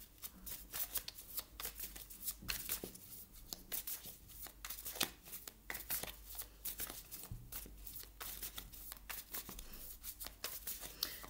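Tarot cards are shuffled repeatedly by hand, a quiet, continuous run of soft riffling and slapping bursts in an irregular rhythm, close by and alone with no talking.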